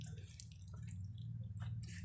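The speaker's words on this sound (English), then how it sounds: "it comes dripping out through the holes underneath as well." Water drips and trickles from the holes under a soiloponics planter set up in an unused space, giving faint, soft patters and wet splashes over a steady low hum.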